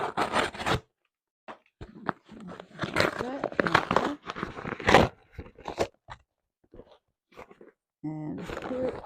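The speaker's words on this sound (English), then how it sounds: "I'm just going to cut this." A Coach package is cut open for unboxing, with close, crisp bursts of crunching, scraping and crinkling packaging that come in short clusters separated by brief pauses.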